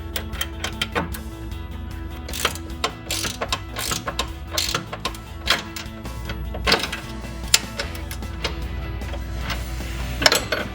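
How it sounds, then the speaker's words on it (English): Clicking ratchet and metal wrench sounds from tightening a suspension nut on a 1994-2004 Mustang, using a 24mm wrench on the inside nut and a 21mm on the outside, with repeated sharp clicks and clanks over a low steady hum. "we're gonna go in with our 24mm wrench on the inside nut and a 21 on the outside"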